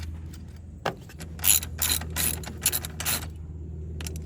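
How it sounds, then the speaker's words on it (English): A ratchet tightens a 13 millimeter bolt onto a power stud while running boards are being installed. Several quick bursts of close, crisp clicking come in uneven runs over a low steady hum. "we're going to put it right here on this stud and then tighten up this bolt"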